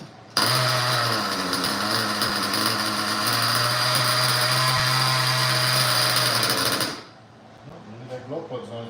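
A glow plug engine on an RC model, its glow plug failing, idling with a loud, steady buzzing drone for about six and a half seconds before cutting off abruptly, followed by faint handling noises.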